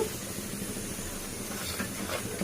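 A pressure cooker of chana dal hisses a soft, steady stream of steam on the stove, faint and continuous with no voices.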